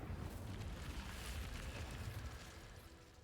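An Incendio fire spell bursts in Hogwarts Legacy, a broad, rumbling whoosh of flame that fills the moment at moderate level and slowly fades toward the end, with no talk.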